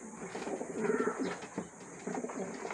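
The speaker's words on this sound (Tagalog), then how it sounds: "Nagbubugbugan na mga ibon ko." Pet homing pigeons, ringed birds in the Philippines, coo nearby in low, throaty, rolling bursts, with a brief lull midway before the cooing resumes.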